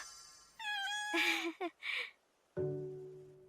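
Cat meows in a Hindi-dubbed anime scene: a drawn-out wavering meow, a couple of short chirpy calls, then a longer lower meow after a brief pause, close and clear.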